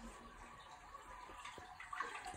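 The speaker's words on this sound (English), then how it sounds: "we're gonna flush this" A toilet being flushed to drain its water before removal, giving a faint, steady rush and gurgle of flowing water that swells slightly near the end, with no talking.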